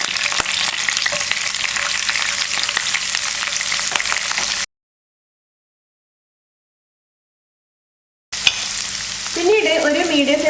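Finely chopped ginger frying in a pan for upma, a bright crackling sizzle with stirring, loud and close; it breaks off into silence midway, then returns with faint voices over the sizzling.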